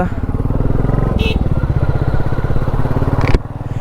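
A motorcycle engine drones steadily and close by on a road trip near Hampi, with a low, pulsing rumble and a brief click near the end.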